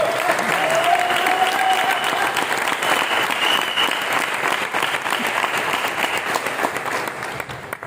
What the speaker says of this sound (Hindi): एक जोरदार ताली अपने आप के लिए बजाएं।